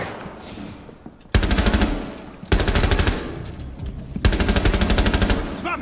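Automatic gunfire from a first-person shooter video game: three loud, rapid bursts of machine-gun fire, each lasting about a second, with quieter game ambience between them and no talk.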